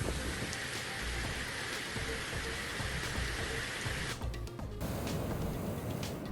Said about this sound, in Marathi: रत्नागिरीच्या मंडणगडमध्ये मुसळधार पाऊस।